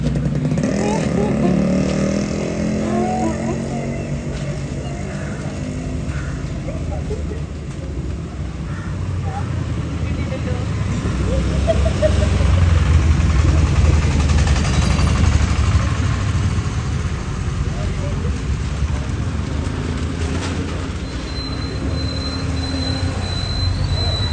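Ride on a moving bus: a continuous low engine rumble with traffic noise, steady and fairly loud throughout, with muffled voices now and then.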